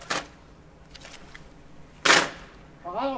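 An honour guard from a guard battalion grounds their rifles at the order arms command during a naval frigate decommissioning ceremony. Two sharp, loud clattering impacts sound about two seconds apart, and a short voice follows at the end.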